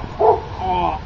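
A small pet dog gives one short, high yip and then a longer whining bark. The sounds are close and fairly loud, and there is no talking.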